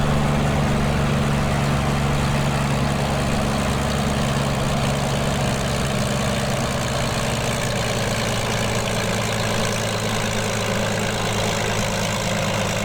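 A P-40B Tomahawk engine idles at around 1000 RPM in Microsoft Flight Simulator 2020, a steady, deep droning rumble that holds an even pitch throughout with no voices over it.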